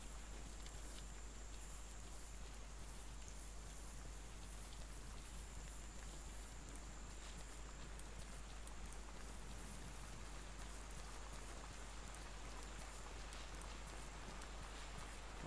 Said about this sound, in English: sounds like our rain's getting heavier